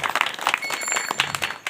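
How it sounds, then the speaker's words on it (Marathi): An audience at a Marathi kirtan gathering claps in a short, dense burst of many hands, loud and continuous throughout. "आमच्या विनेकरता एकदा टाळी वाजवा"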